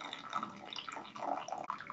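Boiled greens being squeezed by hand release water that drips and trickles faintly into a vessel, soft irregular splashes close up.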